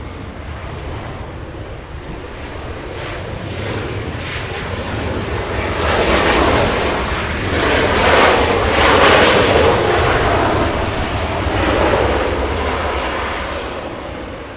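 Jet engine of a British Airways airliner taxiing on a taxiway at Los Angeles International Airport, a steady broadband roar that swells gradually and holds, with faint wind noise and no talk.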